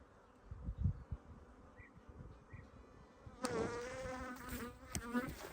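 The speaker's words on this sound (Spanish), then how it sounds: "Eso es una abeja intentando comerse el móvil." A bee buzzes near a phone at an apiary of beehives, faint at first and then suddenly loud and close as it reaches the device, its whining drone wavering in pitch.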